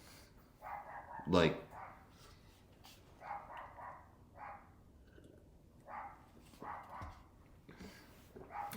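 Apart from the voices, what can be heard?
dog barking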